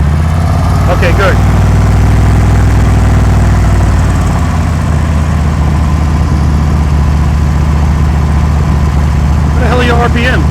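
A motorcycle engine runs loud and close at low revs during slow-speed clutch practice, a steady rumbling drone with a voice talking over it at the start and end.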